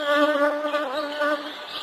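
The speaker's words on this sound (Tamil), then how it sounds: "புதிய தேன் இருக்கிற இடத்த எல்லாருக்கும் தெரிவிக்கிறதுக்கு தேனீக்கள் செய்யும் அறிவிப்பு முழக்கம்" Cartoon bees buzzing, a steady, close, high-pitched droning hum that wavers slightly in pitch, heard alone without talk.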